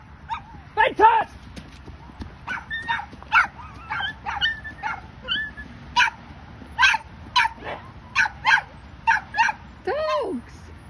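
Several dogs bark and yip repeatedly in short bursts while out on a walk, fairly close, with some whimpering mixed in.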